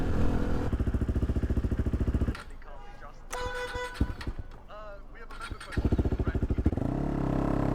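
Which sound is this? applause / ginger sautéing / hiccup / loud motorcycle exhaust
loud motorcycle exhaust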